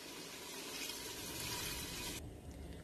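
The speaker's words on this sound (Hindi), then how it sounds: "अब इसमें ऐड करेंगे पानी" Water pours into a cooking pot of chicken with bottle gourd and masala, a broad rushing hiss over simmering that stops abruptly near the end, with no talk.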